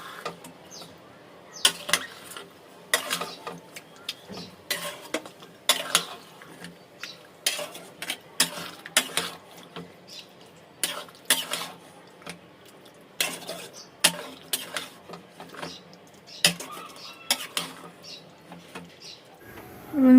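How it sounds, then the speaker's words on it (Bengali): Marinated yogurt chicken is stirred in a pan, with a spatula clattering and scraping against the metal in irregular bursts, fairly quiet and close. "এবার বন্ধুরা আমি দিয়ে দেবো ম্যারিনেট করা চিকেনটা। দিয়ে ভালো করে কষতে হবে।"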